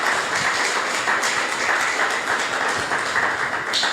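Audience applause at a married couples' encounter gathering, dense continuous clapping that holds steady throughout, loud and close.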